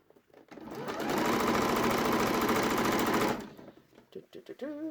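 A sewing machine stitches down the underarm curve of a dungaree bib through several fabric layers, running in one steady, loud burst of rapid stitching that stops abruptly, followed by faint handling clicks.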